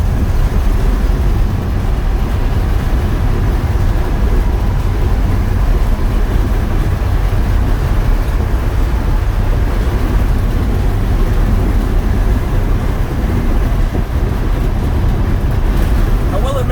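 A 1972 Ford F250 with a 390 engine rolls down a bumpy road, giving a loud, constant cab rumble of engine and road noise with rattles throughout and no pauses.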